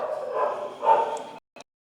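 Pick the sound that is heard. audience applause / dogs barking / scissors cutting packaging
dogs barking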